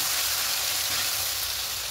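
Onion and tomato paste sautéing in a pan for chicken curry gives off a loud, steady sizzle and hiss, close up and unbroken.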